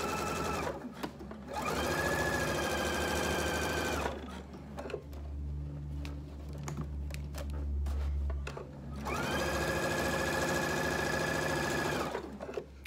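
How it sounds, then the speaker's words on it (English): A sewing machine stitching bag straps for a market bag runs in two steady bursts of rapid mechanical whirring, with a quieter pause of fabric handling and low rumble between them, close and moderately loud. "We're sewing the straps on first because I don't want that stitching to show on my fabric."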